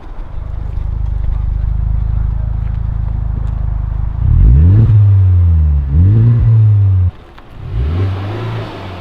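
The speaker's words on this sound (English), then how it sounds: "All right, go give me a rev." A 2017 Honda Civic Type R idling low and steady, then revved in several sharp rising and falling bursts close by before the engine drops back toward idle.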